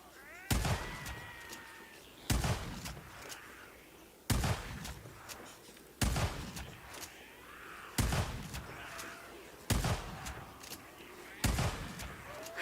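Gunfire blasts at a horde of Freakers in a video game, seven sharp loud shots spaced about two seconds apart, each trailing into a noisy decay.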